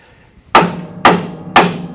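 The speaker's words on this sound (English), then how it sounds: "Maybe a hammer would help." Three sharp, loud hammer blows land about half a second apart on a Ford F150 pickup part that is being knocked loose, each with a bright metallic ring that decays quickly.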